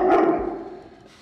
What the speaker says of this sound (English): He's barking at the camera now